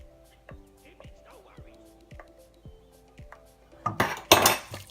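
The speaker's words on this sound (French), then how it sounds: "On va bien scraper la cuillère." A spoon scrapes butter into a metal pot while making Kraft Dinner, with several short, distinct metallic scrapes and clinks. Louder clattering follows near the end.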